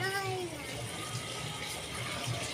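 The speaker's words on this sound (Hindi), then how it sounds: "यहाँ पे पौधों में पानी लग रहा है, मम्मी पाइप से पानी लगा रही है।" Water from a hose pipe splashes steadily onto garden plants, a continuous gushing hiss heard close, with a voice and talk briefly over it at the start.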